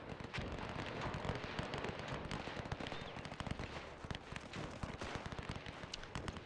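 WW1 field guns firing in a video game, a dense continuous barrage of crackling blasts and rapid pops overlapping one another with no pauses, loud and busy throughout.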